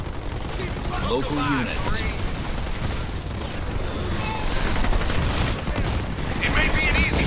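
Artillery shelling and gunfire from a Halo Wars 2 battle roll on continuously as a dense, rumbling barrage with scattered sharp reports and bursts, while game voice lines speak over the combat.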